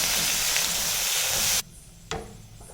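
Tomatoes and green chilies fry in a hot pan with a loud, steady sizzling hiss that cuts off abruptly, followed by a quieter pause and a single sharp clink.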